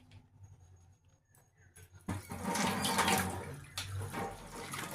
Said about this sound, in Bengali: সবজিগুলো ভালো করে ধুয়ে নিয়েছি, ভালো করে এবার জলটা ঝরিয়ে দিই।